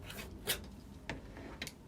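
A blade scrapes and rasps quietly as it trims fabric edges across the top, with three brief louder strokes between softer rubbing and no speech.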